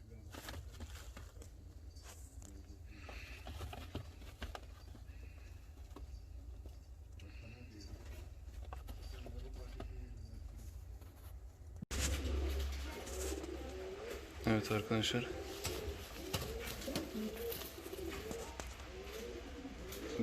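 Fancy show pigeons, including English breeds, coo softly in a sheltered space, with someone talking over them and occasional rustling and faint traffic in the background.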